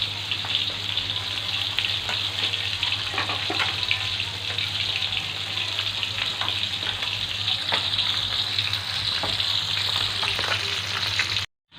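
Hampala barb fish frying in hot oil, a steady loud sizzle and crackle with small pops that runs evenly throughout, nearby and with no voices over it.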